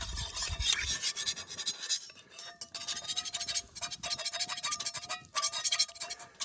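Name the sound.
metal spatula scraping a carbon steel pan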